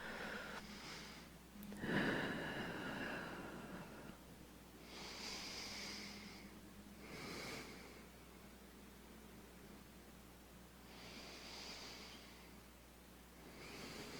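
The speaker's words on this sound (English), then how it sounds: "sink into our child's pose and just take a few nice big deep breaths here" Slow, deep breaths during a child's yoga pose, soft airy inhales and exhales repeating in a calm rhythm, close and quiet with long pauses between.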